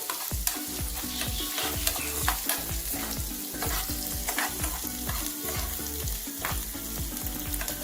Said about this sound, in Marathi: कांदा घालायचा कांदा आपल्याला छान शिजून द्यायचा आहे